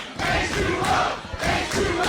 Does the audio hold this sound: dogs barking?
no